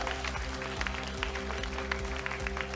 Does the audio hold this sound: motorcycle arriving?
no